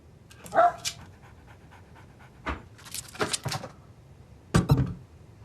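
A dog pants close by in short, breathy bursts, with a few soft woofs and whimpers spaced out irregularly, fairly faint against a quiet room.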